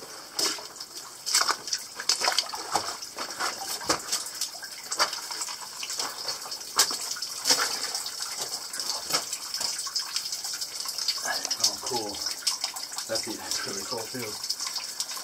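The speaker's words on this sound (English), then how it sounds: "I've never been in a mine that had so much water in it." Water flowing and splashing inside a flooded mine tunnel, a steady gushing wash with scattered sharper splashes and echoing knocks, while people talk nearby toward the end.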